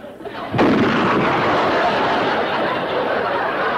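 A cannon fired by an elderly woman in a 1960s sitcom scene booms once, loud and close, with a sharp onset followed by a long, sustained rumbling roar.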